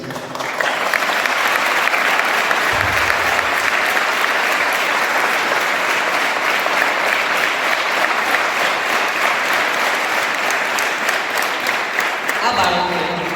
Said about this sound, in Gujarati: કાં તો તમે પણ જોઈને એમને તાળીઓથી વધાવી લેશો